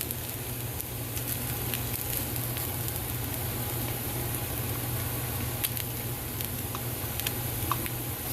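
Black chickpea (kala chana) pongaralu batter balls sizzle steadily in a pan, a constant close frying hiss dotted with small crackles and ticks, with no talk.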